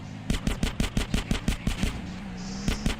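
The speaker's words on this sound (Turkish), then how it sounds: "Bu arada motordayken de ateş edebiliyorsunuz." Rapid automatic gunfire from a car in GTA San Andreas, a burst of about a dozen sharp evenly spaced shots followed by a brief pause and two more shots, loud and close.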